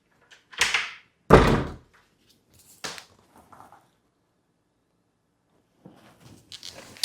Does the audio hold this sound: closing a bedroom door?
yes